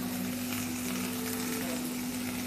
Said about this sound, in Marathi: यामध्ये कांदा टाकून घ्यायचा आहे, उभा चिरलेला कांदा आहे।